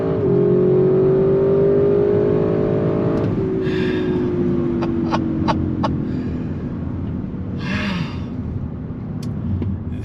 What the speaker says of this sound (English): The 8-speed shifts with such authority.